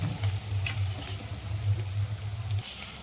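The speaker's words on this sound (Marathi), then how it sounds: "कांदा चांगला परतून घ्यायचा आहे, रंग होऊ द्यायचा आहे आपल्याला त्याचा।" Chopped onion fries in a pan with a steady soft sizzle, and a spoon stirs it now and then with light scrapes. The sound is close and moderately quiet, with no talk.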